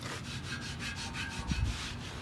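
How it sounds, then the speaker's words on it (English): A microfiber cloth wipes the bumper of a Duramax truck after off-roading, making close, rhythmic rubbing strokes, about eight quick back-and-forth passes, with a small bump partway through. "just go right back over it with a microfiber. Wipe that down."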